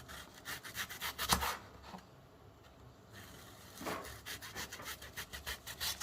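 Close, steady knife cutting of onions on a board, repeated scraping strokes in two runs separated by a short pause, no talk.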